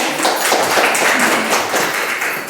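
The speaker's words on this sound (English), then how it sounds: "let's give her one more round of applause" Audience applause at a live survivor-story monologue event, a short, loud burst of many hands clapping close by that fades slightly at the end.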